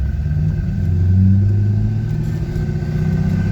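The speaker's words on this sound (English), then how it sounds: "this boot is not shoved down on there, so you're getting a lot of tunnel noise" Inside a moving C5 Corvette with a T56 gearbox and a loose shifter boot, a loud, steady low engine and tunnel drone fills the cabin, swelling slightly midway.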